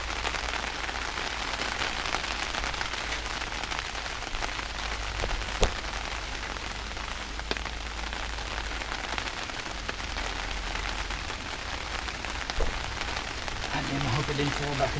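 Rain pours down outside a shelter during a rainy outdoor repair session, a loud dense steady hiss and patter lasting throughout, with a few sharper drips and thumps and a voice occasionally heard.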